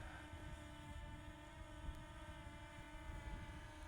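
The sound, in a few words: camera drone flying overhead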